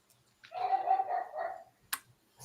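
A dog barks and yaps in a short burst, fairly close and moderately loud, followed by a couple of sharp noises.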